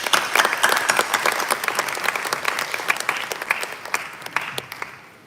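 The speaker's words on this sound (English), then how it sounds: "we can appreciate her with a big round of applause once again" An indoor audience at a campus silver jubilee meeting claps in a dense burst of applause that gradually thins and fades out.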